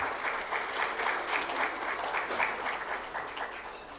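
Audience applause at a high-level dialogue on Pakistan's roadmap for COP 28, a dense, sustained round of clapping from a crowd that tapers slightly toward the end.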